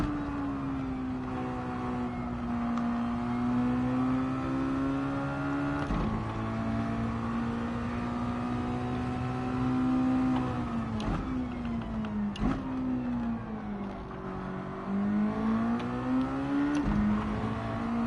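Virtual Mazda Miata race car from Gran Turismo 7, lapping Tsukuba, its engine note rising and falling through gear changes and lifts over a continuous, fairly loud drone, with a few brief sharp clicks.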